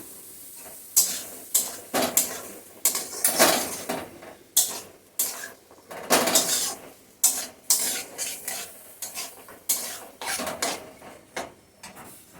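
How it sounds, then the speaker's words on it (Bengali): Potatoes and jackfruit seeds being sautéed in a pan, with a spatula repeatedly scraping and stirring against the metal at a steady rhythm over a soft sizzle, close and clear, with no talk. "কাঁঠালের বিচিটার সাথে আলুটা একসঙ্গে দিয়ে কষিয়ে নিচ্ছি"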